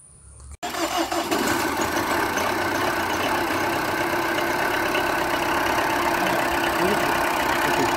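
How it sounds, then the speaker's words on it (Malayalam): A Tata Indigo CS car in running condition at a scrapyard cranks and fires up after a brief silence, then settles into a steady, loud, close idle with a slight knocking undertone. "ഇത് എഞ്ചിൻ നമുക്ക് എന്തായാലും സ്റ്റാർട്ട് ചെയ്ത് നോക്കാം"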